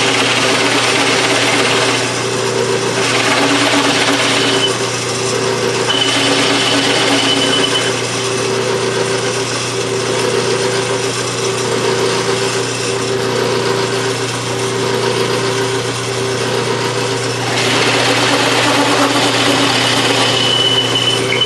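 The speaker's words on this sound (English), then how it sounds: "we're ready to drill those holes" A power drill whines steadily at high speed for the whole stretch, loud and close, its pitch shifting slightly as it bores hinge holes through wooden cabinet doors.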